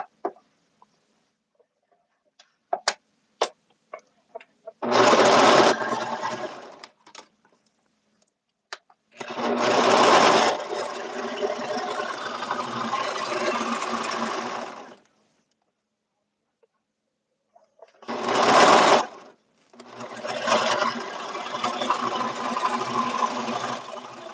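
A sewing machine stitches suit pant legs in several bursts: a short run, a long steady run of about five seconds, then a brief burst and another sustained run, separated by quiet pauses.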